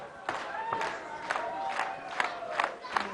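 A wrestling arena crowd cheers and chants in rhythmic bursts of roughly regular shouts, with a voice talking faintly over the noise.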